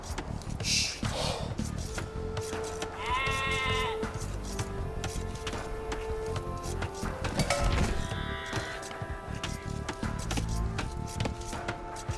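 Sheep bleat repeatedly in Age of Empires 2: Definitive Edition, several wavering calls standing out over a busy game soundscape of music, ambient effects and scattered clicks.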